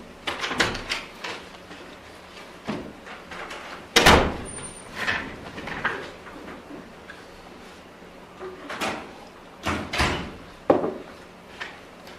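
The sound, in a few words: courtroom door opening and closing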